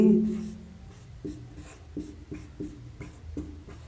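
Writing on a board during a class 10 maths lesson on a cylinder problem: a steady series of short, crisp strokes, about eight of them in a loose rhythm, close and clear with no voices.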